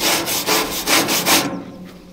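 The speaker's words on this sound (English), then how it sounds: "just pressing it down and just trying to scrape off, because this is metal on metal, so they'll just easily scrape each other" Scraping a metal brush across metal during an old colonial house renovation, five steady rhythmic back-and-forth strokes, close and loud, then stopping.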